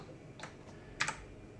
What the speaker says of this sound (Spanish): Si aprieto el punto que tengo en el teclado numérico, puedo hacer un zoom sobre el objeto